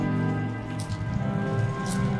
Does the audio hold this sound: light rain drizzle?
yes